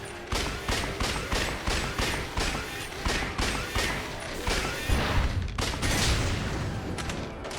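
Repeated grenade blasts in the Lost Judgment video game, a steady series of booming, crashing bursts roughly every half second, loud over a dense background.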